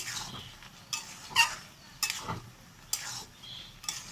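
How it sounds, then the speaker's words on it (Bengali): Fried pointed gourd is stirred into a potato and prawn curry, with four or five separate bursts of scraping and clinking from spoon and pot and quiet gaps between them. "এই যে পটলগুলো যে ভেজে রেখেছি আলু চিংড়ির মধ্যে দেওয়া হলো, দিয়ে আমি ভালো করে কষাবো।"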